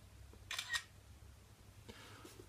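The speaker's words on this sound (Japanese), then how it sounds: "で、このままシャッターを押します。" A camera shutter clicks once, a short crisp mechanical snap standing out against a quiet room, followed later by a fainter second click.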